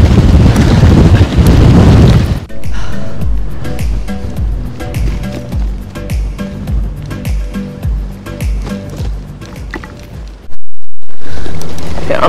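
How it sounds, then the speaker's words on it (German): Strong, stiff wind buffets the microphone during an outdoor bike ride, a loud continuous roar with gusty swells and low rumbling pulses, briefly cutting out before returning at full force. "Steife Brise macht nichts."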